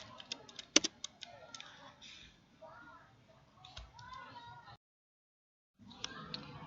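Typing on a computer keyboard, with quick irregular clicks and keystroke bursts close by, soft tapping mixed with quiet speech, then a brief gap of silence before the clicking resumes.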